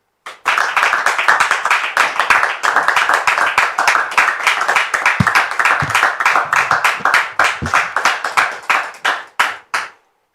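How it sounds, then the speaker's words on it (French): Studio audience on a French-language talk show claps to welcome a guest, a loud, dense burst of applause lasting about ten seconds before trailing off into a few final claps. "je voudrais qu'on reçoive encore sous vos applaudissements Dame Priska"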